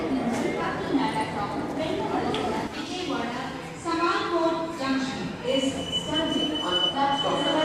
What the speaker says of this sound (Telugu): మన శేషాద్రి ఎక్స్ప్రెస్ అయితే గుంటలోకి అయితే ఎంటర్ అయిపోయింది ప్లాట్ఫామ్లోకి